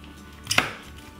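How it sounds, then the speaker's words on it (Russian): A single sharp chop of a knife cutting smoked chicken on a cutting board, close and brief, with a quieter impact just before it. "Остальное мясо нарежем небольшими кусочками."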